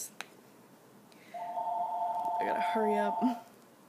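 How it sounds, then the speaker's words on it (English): A mobile phone rings nearby with a steady electronic tone, then a second two-tone ring pattern sounds briefly over low room noise. "My phone is ringing."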